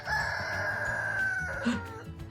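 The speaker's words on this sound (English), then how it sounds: "we're back at the chicken run" A rooster crows in a chicken run, one long sustained call held for well over a second, with hens clucking softly underneath and a steady outdoor murmur throughout.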